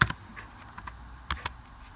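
Code is typed on a computer keyboard in a close, clear run of sharp individual key clicks at an irregular pace, with a few louder strikes standing out against a quiet background.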